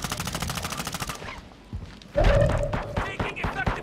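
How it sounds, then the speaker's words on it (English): Call of Duty Warzone 2.0 Season 4 gunfire crackles in rapid automatic bursts, followed by heavier booming shots and impacts, loud and close, with game voice chatter around it. "Taking effective fire."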